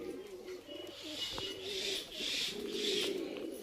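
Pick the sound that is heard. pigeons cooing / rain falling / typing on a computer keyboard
pigeons cooing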